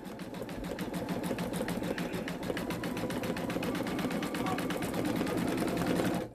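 An embroidery machine stitches rapidly and evenly, a steady mechanical whirring rattle that runs nonstop before cutting off at the end.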